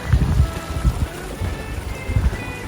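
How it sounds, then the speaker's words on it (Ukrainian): A small stream babbles and gurgles along a road in a Transcarpathian mountain village, a steady close wash of running water with low rumbling pulses throughout. "Приємно так і те, коли вздовж дороги дзюркотить струмочок. Ви чуєте, мене супроводжує шум води."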